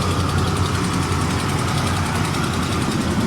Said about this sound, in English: I hear a slight exhaust leak.